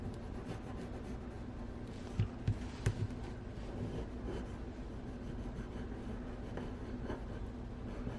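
Pencil scratching faintly on paper while drawing around a paper template for a junk journal star pocket, a soft continuous scraping with a few small taps over a steady low background hum.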